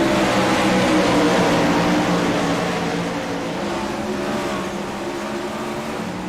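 Dirt track race cars roar down the front straightaway at Charlotte Dirt Track, a loud, dense wall of engine noise with strong harmonic drone that stays steady and close, easing slightly toward the end.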